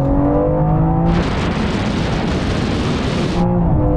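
A BMW M3 with roughly 600 horsepower and all-wheel drive and a Porsche 911 Turbo S accelerate hard from 50 mph in a rolling drag race. A loud, sustained roar of engine and road noise swells for several seconds, then eases off.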